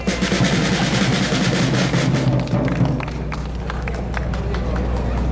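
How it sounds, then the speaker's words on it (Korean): An audience at a patriotic church rally claps loudly at first, the clapping thinning and fading after a few seconds as a few louder single claps and murmurs remain. "박수 보내주세요"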